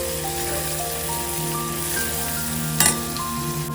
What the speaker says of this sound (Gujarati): શિમલા મરચું નાખી દીધું છે એમાં। હવે એને શેકી લઈએ બરાબર।